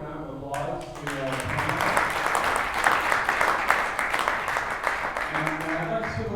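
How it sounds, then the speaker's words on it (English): An audience at a 2022 Santa Barbara real estate panel on listing agents breaks into a burst of applause. A voice speaks briefly just before the clapping swells and again as it fades. "let's give a round of applause to"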